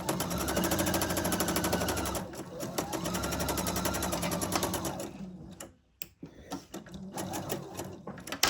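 Sewing machine stitching two quilt pieces together, running close and steady for about five seconds, then stopping, followed by handling noises and fabric movement.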